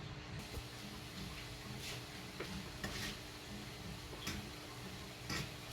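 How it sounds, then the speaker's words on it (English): Steady sizzling of dumplings frying in a pan, a constant crackle with a few brief clicks and taps, no voices. "my dumpling is frying so nicely"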